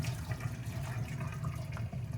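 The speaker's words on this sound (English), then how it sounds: "Drain out the whole water from here" Water pours and gurgles steadily as it drains out of a vessel of boiled rice in a kitchen, a close, continuous liquid splash for about two seconds.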